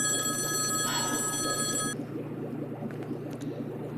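A telephone rings with a steady electronic tone for about two seconds, then stops, leaving a low room hum.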